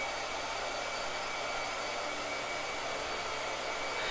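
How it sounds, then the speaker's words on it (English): A hair dryer blows steadily on a painting, a close, continuous airy hiss with no break and no voices. "let me do one last blow dryer"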